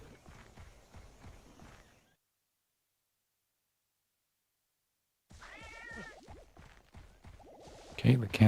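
Cats meowing in a video game: a short, clear meow rises amid soft game sounds and scuffling, following a stretch of silence, with a louder burst of noise at the end.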